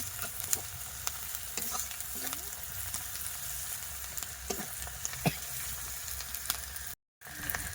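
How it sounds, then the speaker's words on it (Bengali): Ginger and turmeric frying in a pan, a soft sizzle under repeated scraping and clattering stirring strokes at close range, with a brief full dropout near the end. "আদা দিয়ে দিয়েছি এটা ভালোভাবে নাড়িয়ে নেব"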